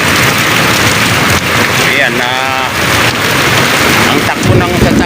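Steady heavy rain pours through a stormy night with a low rumble of thunder, loud and constant beneath someone speaking Filipino and a brief voice or passing tone in the middle.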